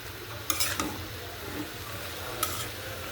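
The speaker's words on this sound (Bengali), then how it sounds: "ভালো করে মশলার সাথে আমি মিক্স করে নিচ্ছি।" Dried loitta fish being stirred with spices in a frying pan, with a low steady sizzle broken by two brief bursts of utensil scraping near the start and later, and no voices.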